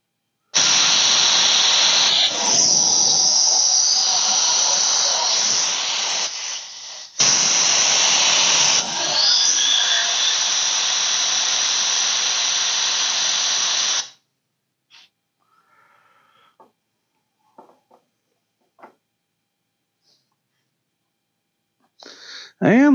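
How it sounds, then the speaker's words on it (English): Harbor Freight spark plug cleaner blasting with compressed air at raised pressure, two loud sustained hissing bursts separated by a short gap, then quiet with faint handling clicks. "I'm going to raise the pressure up on my air compressor. Now we'll see what it sounds like and how it runs."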